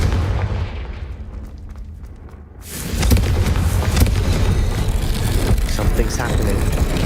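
Confringo fire spell blasting in Hogwarts Legacy: a sudden loud explosive burst at about three seconds, then a sustained roaring rumble of the blast and game effects, following quieter ambient game sound.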